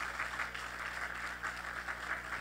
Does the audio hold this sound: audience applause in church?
yes